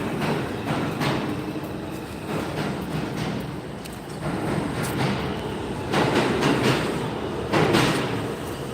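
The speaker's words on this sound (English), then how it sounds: "That's the number 2 and 3 trains that you hear below Eastern Parkway." Deep, continuous rumble of New York's 2 and 3 subway trains running underground below Eastern Parkway, Brooklyn, swelling and easing as they pass, with no voices.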